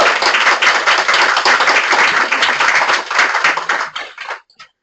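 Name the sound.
audience applause after presentation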